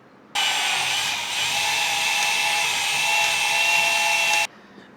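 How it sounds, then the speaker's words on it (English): A high-pitched power drill with a step drill bit whines steadily for about four seconds, then stops abruptly. "let's take out a new tool and start some drilling"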